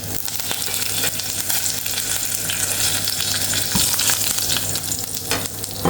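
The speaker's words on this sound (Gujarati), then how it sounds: "લીમડાના પત્તા પાંદડા નાખી દો" Curry leaves hit hot oil with cumin and asafoetida in a home kitchen tempering, giving a loud, continuous, close sizzle and crackle with occasional stirring clatter.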